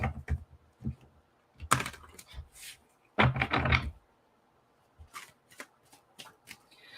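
A deck of Heal Yourself reading cards is shuffled up close in several separate riffling bursts, with quiet gaps in between and no talking.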